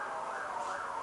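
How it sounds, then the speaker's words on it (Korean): An emergency vehicle siren, ambulance or police, wails steadily at mid-loudness with a continuous rising-falling tone, heard from some distance without any other sounds over it. "구급차인가?"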